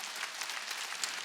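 A church congregation at a Korean Wednesday worship service clapping their hands together, a dense, steady patter of many hands, moderately distant and sustained.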